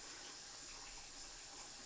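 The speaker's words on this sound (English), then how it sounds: "Look at how much water is leaking." Water rushes steadily from a leaking quick connector under a bathroom sink faucet, a continuous close hiss and splash with no talking.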